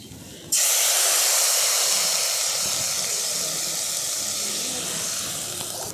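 Spiced potatoes and onion dropped into a hot wok, setting off a sudden loud sizzle that holds as a steady bright hiss, slowly easing, close up and alone.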